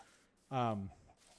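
A single Minecraft chicken cluck, a short harmonic burst standing alone against a faint background.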